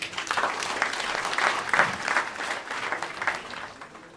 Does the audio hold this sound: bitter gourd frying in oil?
no